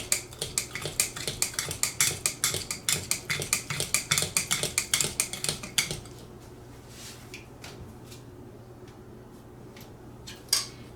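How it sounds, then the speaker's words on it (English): A utensil stirs milk into a sweet potato casserole mixture in a bowl, giving a rapid, even run of close scraping clicks against the dish for about six seconds. A few scattered knocks follow before a final clunk. "And a 1/2 cup of milk here. And you could use almond milk or whatever kind of milk you like, I think. And we're just going to get that mixed in good."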